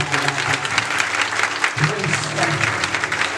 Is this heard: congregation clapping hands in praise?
yes